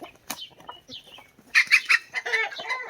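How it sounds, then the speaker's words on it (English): Young chicks on a farm peep and cluck in a quick cluster of bright, close calls, with a few scattered chirps before and after. "got the little chicks."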